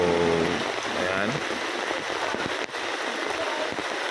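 Rainwater runs and splashes steadily through a yard after three days of rain, a broad continuous wash with scattered drip-like ticks throughout, while someone talks over it at the start.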